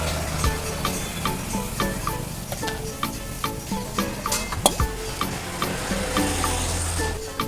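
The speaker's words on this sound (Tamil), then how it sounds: "இப்போ முட்டையை சேர்த்துட்டு நல்லா வதக்கிட்டுக்கோங்க இப்போ நம்ம பிச்சு வச்சிருந்தா பரோட்டாவை சேர்த்துக்கலாம்" Egg and shredded parotta being sautéed in a pan for kothu parotta, giving a steady sizzle with scattered scraping and stirring clicks at close range. Nobody speaks.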